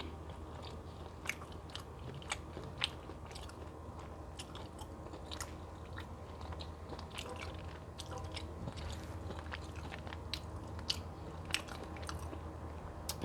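Close, intimate bites and chewing of a burger served on an English muffin, soft squishy crunches recurring steadily over a constant low background with no speech.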